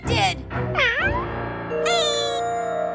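A cartoon cat meows several times, loud and close, with drawn-out, wavering cries in quick succession.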